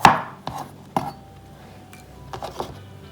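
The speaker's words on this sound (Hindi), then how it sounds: "इसको मैं ब्लॉक्स 1 बाई 1 सेंटीमीटर के हिसाब से ये काट दूंगा।" Knife chopping a salad ingredient into small 1 cm blocks on a board: a few sharp, distinct cutting taps spaced irregularly, close and fairly clear, with no talk.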